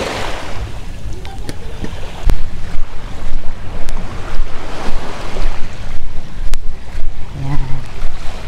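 Ocean waves wash steadily onto a beach with a continuous broadband roar and occasional gusts of wind noise on the microphone, with no one talking.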